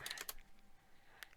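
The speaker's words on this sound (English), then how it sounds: "let me type it out." A few quick, faint taps on a computer keyboard, a cluster of keystrokes at the start and a single tap near the end, with nothing else audible.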